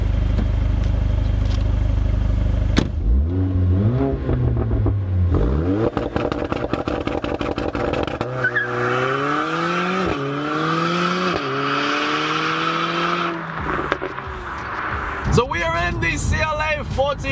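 A Mercedes with an inline four-cylinder engine pulls away and accelerates hard on a drive, its engine note rising through several gears with sharp shift breaks, loud and close from inside the car.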